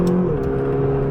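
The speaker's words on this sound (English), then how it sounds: "You can hear the turbo." A 2020 McLaren GT turbo engine drones steadily while driving, with a smooth whir and a tone that rises slightly, heard from inside the car with no talk.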